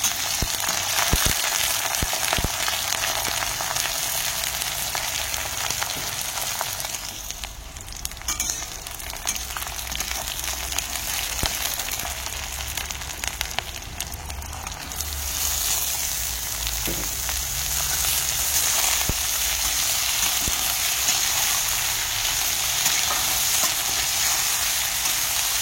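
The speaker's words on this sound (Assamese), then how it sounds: "সুন্দৰকে ভাজি লম" Silkworm pupae coated with turmeric fry in hot oil, giving a steady, dense sizzle that stays loud and even throughout with no voices.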